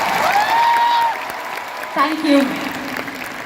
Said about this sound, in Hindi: एक बार ताली बजा के आशीर्वाद दीजिए।